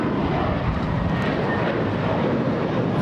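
JetBlue airliner at LAX airport, a loud broad engine roar holding steady through the moment.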